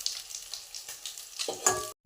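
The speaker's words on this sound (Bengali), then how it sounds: "দেখো সর্ষের তেল আমার গরম হয়ে গেছে। মাছ ভাজে দিচ্ছি" Fish sizzles and spatters in hot mustard oil in a pan, a close crackling fry with bursts of popping and a brief stir near the end.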